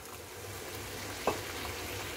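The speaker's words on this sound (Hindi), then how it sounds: "अब हम इसमें ग्रेवी के लिए पानी ऐड कर देते हैं।" Water is poured into sizzling egg curry gravy in a hot pan, giving a sudden hiss and splash over a steady background of frying.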